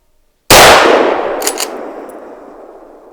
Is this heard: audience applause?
no